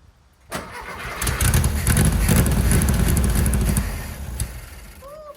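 Volkswagen Thing engine cranks and catches, then runs loud and rough for several seconds before the revs settle toward idle, heard up close.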